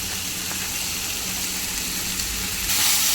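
Onion, coconut, ginger and garlic paste going into a hot pan for a Konkan-style jackfruit seed dish, a steady loud sizzle and hiss that swells louder near the end, with no talk.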